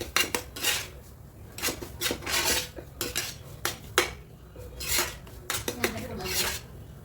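Pineapple kesari being stirred and roasted in a pan, with a utensil repeatedly scraping and clanking against the metal in an irregular rhythm of sharp strokes over a low background, close and moderately loud, with no talk.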